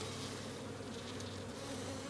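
Honey bees buzzing steadily around a hive frame, a dense continuous hum of many insects close by, with no talking.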